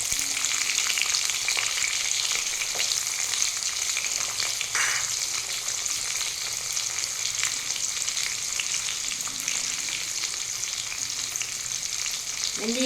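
Onion frying in hot oil after mustard seeds have spluttered, for a Tamil lentil-ball kuzhambu gravy: a steady, close, even sizzle throughout with a few faint stirring clinks, no talking.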